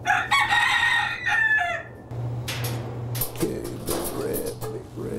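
A rooster crows loudly and close by, its stacked harmonic call stretched over the opening two seconds with a few clucks, followed by quieter scattered farmyard noises under a steady hum.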